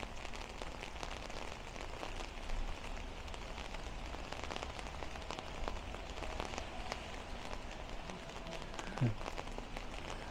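Steady rain falls across a Boston street on a wet day, a continuous broadband hiss of drops hitting pavement and sidewalks that holds at an even level throughout, with no talking.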